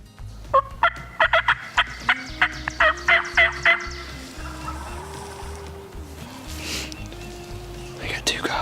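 Wild turkey gobblers gobble repeatedly in a rapid run of loud, near bursts, with a hen also present in the Appalachian woods; soft talk and rustling continue underneath, and a steady low hum runs throughout.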